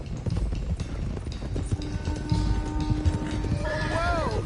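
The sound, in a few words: horse hooves and whinny, video game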